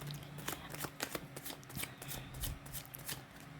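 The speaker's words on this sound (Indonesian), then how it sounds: "saya kocok kartunya" Tarot cards being shuffled by hand in a quiet room, a steady run of crisp riffling slaps and flutters repeating every fraction of a second, close and moderately loud, with no talking.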